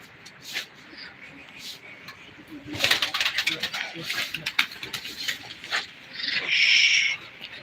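Soft pigeon coos sound among rustling and scattered background noise, with a brief burst of higher chirping near the end.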